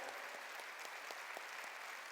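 Congregation applauding in a church service, a steady dense wash of clapping from many hands, fairly quiet and even throughout with no voices over it.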